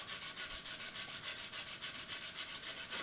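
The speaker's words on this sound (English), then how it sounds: "you can sand a little bit of a flat down here." Rapid, steady back-and-forth sanding strokes flatten a spot on the fuselage of a J&H Aerospace Aleda finger-grip catapult glider, rasping close and evenly throughout.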